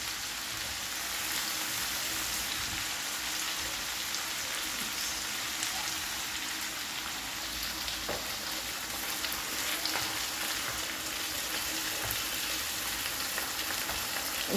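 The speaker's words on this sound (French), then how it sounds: "Je vais laisser mijoter" Soft, steady hiss and crackle of mbika sauce with smoked fish cooking in a pot, a constant faint sizzle with no voices.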